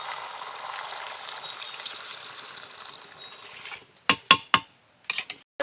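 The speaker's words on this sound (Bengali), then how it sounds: "এখন আমি এর মধ্যে জল দিয়ে দেবো।" Water pours into a frying chicken and potato curry, a hissing, bubbling rush that fades out, then a handful of sharp clatters and knocks from utensils against the pot.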